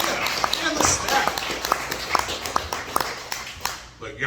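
Comedy show audience clapping for themselves, scattered sharp claps and light applause running under a comedian's steady talking, fading out near the end.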